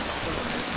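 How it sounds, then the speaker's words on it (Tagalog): Rain falling steadily in Giverny, France, a dense, even patter heard close by with no voices over it. "umulan na."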